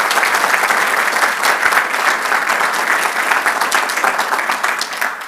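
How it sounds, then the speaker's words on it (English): Sustained audience applause at an awards ceremony honoring community champions, a dense, steady wash of many hands clapping, loud and continuous for the whole stretch with no talk over it. "So a big round of applause for them."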